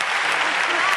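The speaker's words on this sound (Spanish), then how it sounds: "ya pueden aplaudir a Mónica Naranjo" Studio audience on a Spanish celebrity impersonation TV gala applauds steadily for one second, a dense, even wash of clapping throughout.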